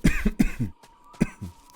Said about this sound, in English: Random cough out of nowhere.